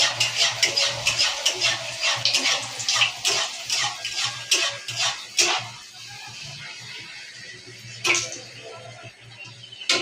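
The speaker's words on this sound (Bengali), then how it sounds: "এই যে তেল গরম হয়ে গেছে, এই যে লুচি নিয়ে নিয়েছি" Luchi, the puffed Bengali flatbread, frying in hot oil with a continuous crackling sizzle and sharp spattering pops, steady and close throughout.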